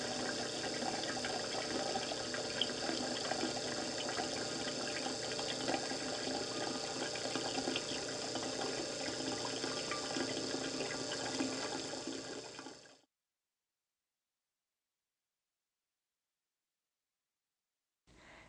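Clear water pouring steadily during a filter test, a constant broadband rush for about thirteen seconds that cuts off abruptly into silence, with a brief return at the very end.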